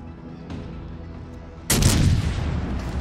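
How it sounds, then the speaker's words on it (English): Heavy 18-inch battleship guns of the USS Georgia firing in World of Warships Legends, a sudden loud booming blast with a long rumbling tail over a quieter background hum. "Let's take a cheeky shot at the Helena in the meantime."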